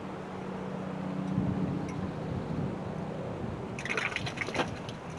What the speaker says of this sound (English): And here comes the water.